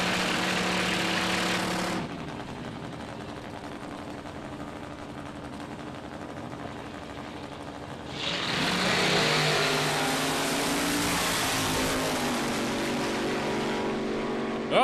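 A turbocharged LS-powered VX Commodore drag car runs at Palmyra Dragway, its engine roaring loud and sustained, dropping to a lower drone for a few seconds before surging again with a bright, rising intensity.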